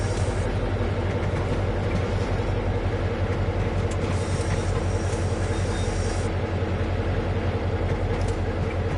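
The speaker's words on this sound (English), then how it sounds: "it's not as if the shunter isn't loud enough" A diesel shunter locomotive in Train Sim World drones steadily and loudly with a constant low engine rumble and rattle, continuous throughout with no talking.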